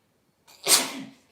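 A single sharp sneeze from a woman at a Wednesday night auction, close and fairly loud, with a brief breathy intake before the burst and a quick fade.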